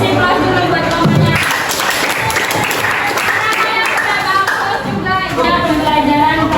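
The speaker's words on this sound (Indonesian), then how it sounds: "Kasih aplaus dulu buat teman-temannya" A classroom of vocational high school students claps for classmates after their presentations, sustained dense applause from a room full of hands, with voices mixed in underneath.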